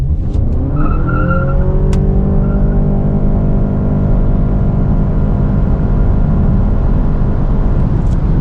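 A 2024 Honda ZR-V Hybrid Sport pulls hard from a standstill toward 100 km/h, a loud steady drone rising briefly with a shift early on, then holding a smooth, constant roar from inside the cabin.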